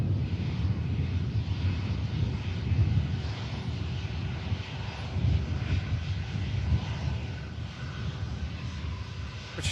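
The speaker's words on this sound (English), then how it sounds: "British Airways A320 in from London Heathrow, as we mentioned." A British Airways A320 airliner arriving from London Heathrow at Manchester Airport produces a steady, broad jet engine roar at moderate distance, rumbling continuously with slight swells and some wind buffeting.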